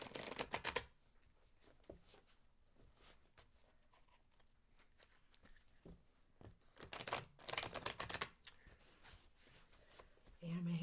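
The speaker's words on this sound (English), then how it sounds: "I'm going to hand them to you to shuffle" Tarot cards are shuffled during a live tarot reading, in quick papery bursts of riffling at the start, again midway and at the end. Quiet talk fills the gaps between the bursts.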